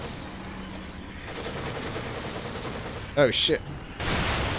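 A grenade blast in The Evil Within lands near the end as a sudden wide burst of noise over steady game ambience, with someone talking earlier.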